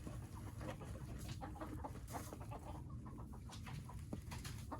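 Korean native chickens cluck and scratch about while foraging, a steady close-up farmyard bustle of short clucks and rustling with no speech.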